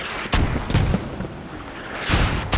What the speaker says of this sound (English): They're still just getting pounded by mortars over here on the Eastern Island.